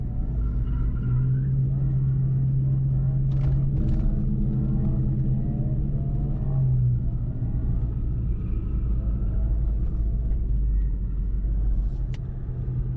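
A Ford Mustang's engine revs while held against the foot brake, a deep rumble that swells for several seconds before settling back to a steady idle.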